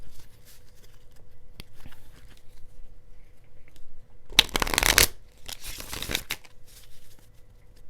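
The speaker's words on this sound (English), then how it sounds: "let's do a shuffle here and get a couple more cards here to look at this shift." Tarot cards being shuffled close by, with a quiet stretch of light handling and soft ticks, then a couple of brisk riffle bursts in a row near the end, without talking.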